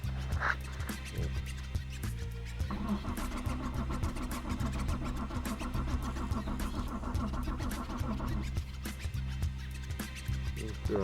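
A Lexus IS200 engine cranks steadily for several seconds without catching, a loud, continuous rhythmic churning from the starter with no talking over it.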